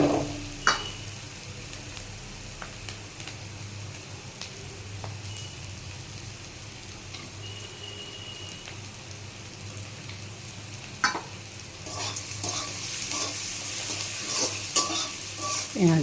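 Chopped onions browning in a pan for a soybean dish: a constant close sizzle with occasional stirring scrapes, growing busier and louder toward the end.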